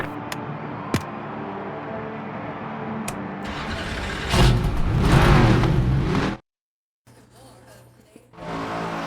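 NASCAR race cars in the NASCAR 25 video game fire up and accelerate at the start, engines building from an idle rumble into a louder rising roar, then a sudden dropout and a quieter engine drone; speech is faintly present.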